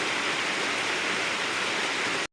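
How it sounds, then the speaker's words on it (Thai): Steady rain falls on a rural Thai homestead, a dense, even hiss that runs unbroken and fairly soft until it cuts off abruptly at the end. "ฝนตกแล้ว"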